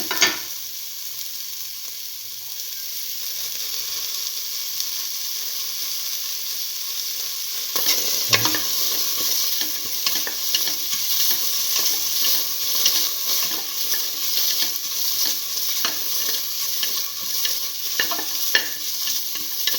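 Tomato pieces frying with meat in a pan, a steady hissing sizzle that grows louder and busier midway, with intermittent scraping stirs, heard up close.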